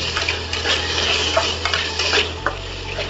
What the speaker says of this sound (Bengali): দিয়ে ভালোভাবে একটু নাড়িয়ে নেব